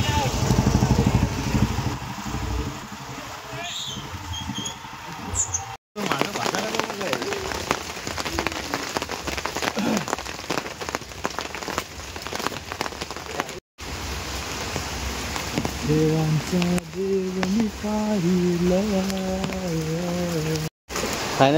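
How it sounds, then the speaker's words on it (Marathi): Rain pours steadily outdoors on a night outing, a dense hiss and patter that runs throughout, with a low engine hum and some voices coming in toward the end. "नुकतं फक्त निघालेलो आहे आणि या पावसाने हजेरी लावलेली आहे।"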